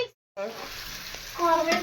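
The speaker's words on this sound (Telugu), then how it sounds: "టమాటోస్ అయితే కొంతసేపు వేపుకుంటే సరిపోతుంది" Tomatoes fry in a pan at home, a steady close sizzle running throughout after a brief silent gap at the start, with a louder stir-like burst near the end.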